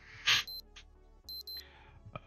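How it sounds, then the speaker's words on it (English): A computer alarm chirps in short electronic bursts: a loud tone, then two paired beeps, a pause and another pair of beeps, close and clear with no talk. "Sorry if you guys got that alarm in your ear, and that was very loud."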